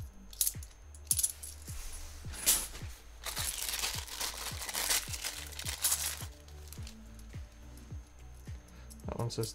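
£2 coins are handled during a coin hunt, with repeated sharp metallic clinks and jingles at close range, several loud clatters in quick succession, under someone talking.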